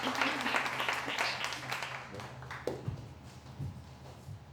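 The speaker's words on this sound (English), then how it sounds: "let's give her a big applause" Audience applause welcoming the artist Jessica Moon onto the stage at a morning creative talk, a fairly faint patter of clapping that thins out after a few seconds.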